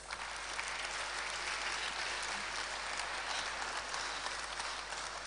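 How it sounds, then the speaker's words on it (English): Audience applause at the Springboard 2019 event in Kumasi, a dense, loud, steady wash of clapping from a large crowd that holds for the whole stretch without letting up. "And a round of applause for yourselves."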